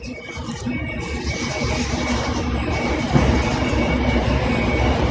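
A train sound effect triggered by a live stream gift: a steady rumbling of rolling rail cars, loud and continuous with a faint clatter, and no one talking over it.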